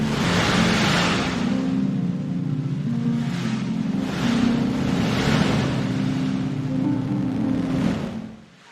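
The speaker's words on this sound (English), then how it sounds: "Let us listen to what a black hole sounds like." NASA sonification of light echoes from the black hole V404 Cygni: a continuous rushing, surf-like wash of noise with slow swelling pulses and a low steady hum, fairly loud throughout before fading out at the end.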